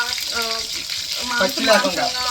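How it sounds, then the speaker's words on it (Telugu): Masala-coated chicken pieces frying in a pan, a steady close sizzle and crackle with some stirring clatter, lasting the whole stretch, with a faint voice partly audible beneath it. "మసాలాలు అవన్నీ పట్టించి చికెన్ ఫ్రై చేసుకుంటాను"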